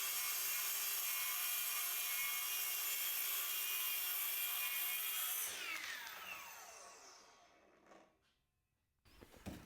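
Ryobi track saw ripping through wood, a loud steady high-pitched whine and cutting rasp for about five seconds before the blade spins down and fades, followed by a brief clatter.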